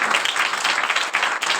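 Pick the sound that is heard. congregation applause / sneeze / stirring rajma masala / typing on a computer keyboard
congregation applause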